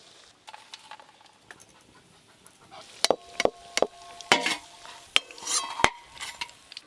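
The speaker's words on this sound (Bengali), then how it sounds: "এবার এই পেঁয়াজগুলো একবারে লাল লাল করে ভালো করে ভেজে নেব" Sliced onions frying in hot oil in a pan, with soft crackle through the clip and several sharp louder clatters of stirring and utensil contact in the second half, no speech.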